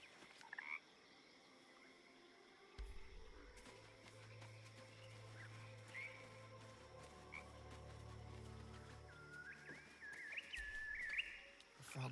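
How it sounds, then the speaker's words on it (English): A frog croaks and ribbits erratically in Baldur's Gate 3, with irregular, strained calls over low game ambience, brief high chirps and a steady background drone. "The frog's entire body shakes. It ribbits erratically as if in pain."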